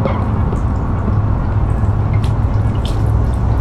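Fish scales are rinsed under a running tap, a steady close splash of flowing water with faint drips and clinks over it, loud and continuous, with no voices.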